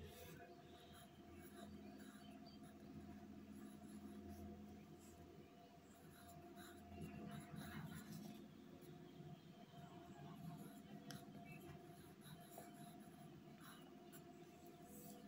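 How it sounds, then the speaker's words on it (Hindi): Pencil scratching on paper during a Class 2 maths lesson, a steady, faint rasp of writing running throughout over a low background hum. "अब हम दूसरे को लिखेंगे।"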